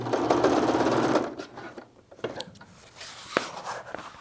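A sewing machine runs steadily on fabric for about a second, then stops, leaving faint clicks and handling noises as a back stitch finishes off the seam of a garment back panel.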